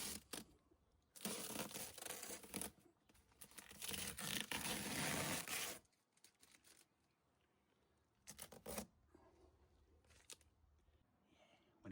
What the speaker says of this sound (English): But not before I remove some of the masking tape